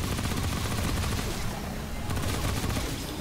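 Gunfire in the game Remnant from the Ashes during a boss damage phase, a dense continuous barrage of rapid shots, loud and unbroken throughout.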